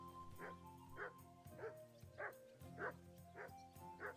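A dog in the medieval video game Kingdom Come Deliverance 2 barks repeatedly at a steady rhythm, about seven sharp woofs over game music and ambience, moderately distant and fairly quiet.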